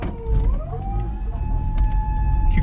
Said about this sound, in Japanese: 救急車がやってきました